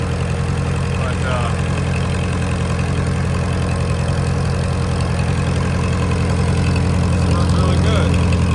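A Kohler 115-volt light plant engine with STP added to its fuel runs steadily at idle, a loud, even low-pitched throb close by, with a voice talking faintly over it.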